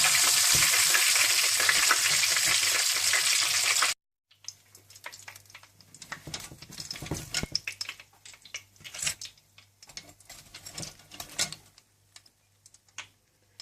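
Chicken pieces deep frying in oil for a zinger burger: a loud, dense sizzle for the first four seconds, then quieter crackling and scattered clinks and scraping alone.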